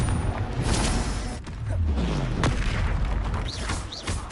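A Confringo explosion spell bursts in Hogwarts Legacy, a dense roaring blast with rumbling low boom and whooshing sweeps filling the whole moment, loud and close.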